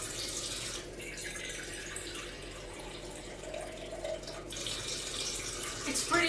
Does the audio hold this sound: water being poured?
yes